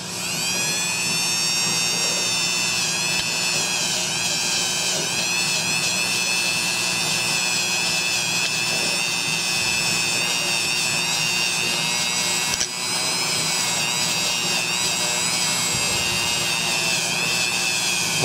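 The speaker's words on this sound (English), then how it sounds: "Harbor Freight sells these stainless steel brushes for your Dremel." Dremel rotary tool spinning a stainless steel wire brush, a loud continuous high-pitched whine held steady for nearly twenty seconds, with a brief dip partway through and slight variations as the brush meets the metal.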